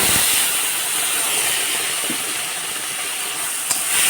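Bay leaves and panch phoron with a pinch of asafoetida sizzling in hot oil, a loud, steady, close hiss with one brief click near the end.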